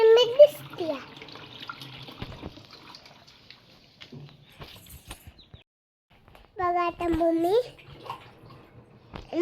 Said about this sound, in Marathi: मशीन मध्ये पाणी घालते